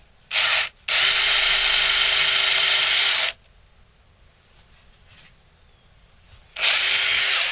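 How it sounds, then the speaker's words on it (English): A power drill whirs loudly in short bursts, a brief blip, a long sustained run boring into wood, then another burst after a pause. "we've measured on the inside where we want to drill our hole to attach that"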